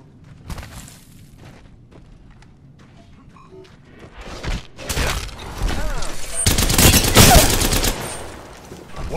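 Gunfire erupts in an Apex Legends battle royale match as bursts of automatic shots build into a loud, sustained exchange that peaks near the end, with a voice talking faintly underneath.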